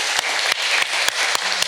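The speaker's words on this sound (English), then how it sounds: "One round of applause" Audience applause at a panel discussion on privacy in the digital age, a steady wash of clapping over 1.8 seconds, broken by short dips.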